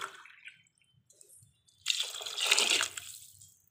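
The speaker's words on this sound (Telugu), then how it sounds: "ఒక గ్లాస్ రైస్కి 2-3 గ్లాసులు వాటర్ పోసుకుందాం" Water poured from a glass onto rice in a cooking pot, a short splashing gush after a few faint drips, fairly close and alone.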